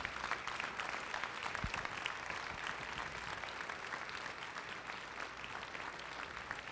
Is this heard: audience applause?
yes